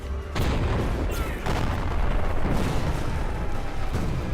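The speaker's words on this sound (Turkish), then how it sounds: "Ha tankmış bu." Heavy booming blasts and explosive gunfire in a Roblox World War One game, loud and near, with sharp bursts rising over a rumbling battlefield background.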